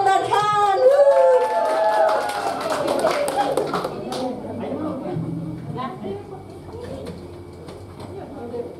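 Applause from a Christmas church service audience starts loud and fades to scattered claps, mixed with a singer warming up and a voice talking over it.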